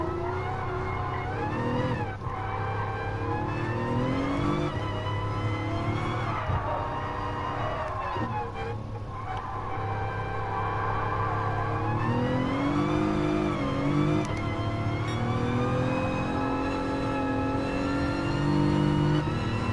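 A race car engine in Gran Turismo Sport revs hard and climbs through the gears, whining steadily up and down with bursts of wheel spin and tire squeal, close and continuous.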